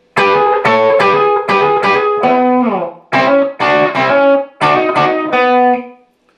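Electric guitar plays the longer outro lick from a song, a series of bright, distorted plucked notes and bends in two repeated phrases, loud and alone with short gaps between them.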